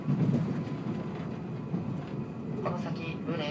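Interior of a local train running on the Shinetsu Line in Japan, a steady rolling rumble and faint rail clatter filling the cabin, with a conductor's announcement voice over it.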